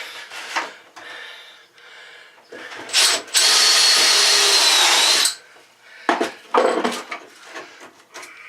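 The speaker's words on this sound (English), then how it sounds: "we're gonna countersink this a little more." A power drill countersinks a hole in wood during a settee repair aboard a Fisher 30 sailboat, whirring loudly for about two seconds between bursts of handling and knocking noises.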